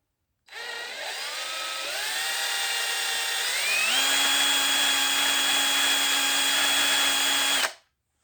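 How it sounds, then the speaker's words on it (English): A small power drill with a 3/32-inch bit drilling metal whines steadily, its pitch climbing in steps as it speeds up, then cuts off abruptly after several seconds. "see if we can switch to a small drill"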